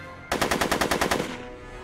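Rapid burst of automatic gunfire in a Back to the Future video game, about ten evenly spaced loud shots in a tight rhythm, then a fading tail.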